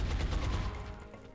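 Rapid bursts of gunfire from XCOM: Enemy Within crackle in a dense fusillade, loud at first and tapering off toward the end, with no talking.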